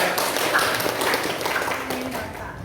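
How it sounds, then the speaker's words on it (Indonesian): A classroom of students claps, a brief patter of many hands overlapping with a voice talking. "Oke, tepuk tangan lagi"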